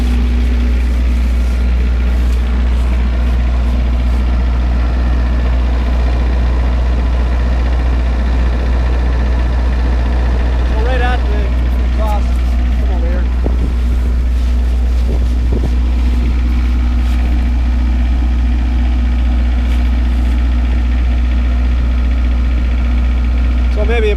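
Off-grid camp generator idling under no load, heard close to its exhaust as a steady low engine drone and vibration throughout, with someone talking over it.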